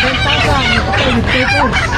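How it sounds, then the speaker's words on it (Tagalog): Chickens squawking and clucking in an agitated scuffle, dense and close, filling the whole moment with overlapping cries. "Nag-aaway yung mga manok mo, Kuya Benji."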